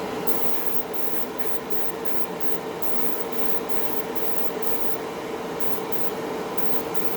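Tamiya LP 51 pure orange spray paint hisses from an aerosol can in a continuous close spray of light mist coats, with faint rhythmic breaks in the hiss throughout.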